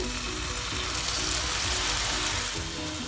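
Tamarind water hitting frying fish masala in a hot pan, a loud, dense, continuous sizzle and bubbling that holds steady throughout.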